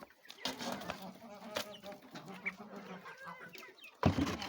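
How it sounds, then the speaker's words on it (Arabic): Fayoumi chickens gather together to eat, clucking and chattering close by in a busy, irregular flock with a sudden louder burst near the end. "اهو الفراخ الفيومي كده بيتلموا مع بعضهم وياكلوا."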